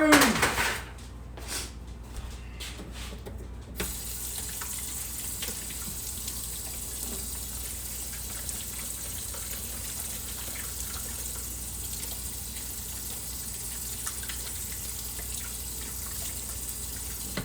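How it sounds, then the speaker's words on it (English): Hands washed under a running kitchen tap, a steady close stream of water that continues evenly for a long stretch, with a few brief splashes and dull knocks at the start and no talking. "I gotta wash my hands in just a second."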